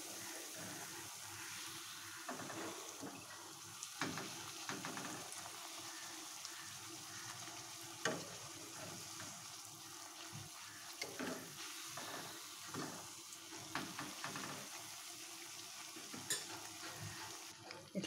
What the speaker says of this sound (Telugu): ఇట్లా ఒక్కొక్కటిగా వేసుకొని ఫ్రై చేసుకోండి